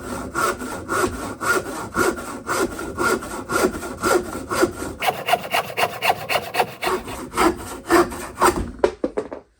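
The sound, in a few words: Parkside handsaw cutting wood clamped to worktop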